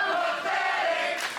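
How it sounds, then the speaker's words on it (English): A women's wrestling championship crowd chanting taunts at Dope and Filthy, a sustained roar of many voices in a rhythmic chant that swells and shifts toward the end. "the crowd chanting, "You're pathetic," to Dope and Filthy"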